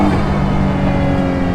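A hypercar's engine revs hard under full-throttle acceleration, a loud, steady, close roar that fills the short stretch without any talk.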